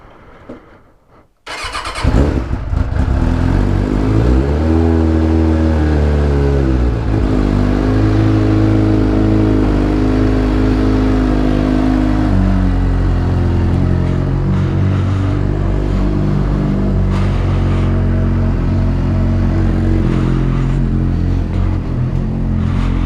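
A 2004 Suzuki 600 Bandit motorcycle engine cranks and fires up after a short quiet moment, revs briefly, then holds a loud, throaty idle with occasional blips of throttle.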